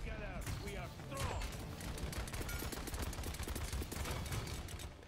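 Rapid gunfire from the Paladins video game, a dense stream of repeated shots running through the whole stretch at steady loudness, with game sound effects and chatter mixed in.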